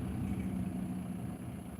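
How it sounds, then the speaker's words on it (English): A car engine runs steadily through the whole stretch, a low continuous rumble close by with no talking over it. "I gotta turn on the car a little bit because I have the light on"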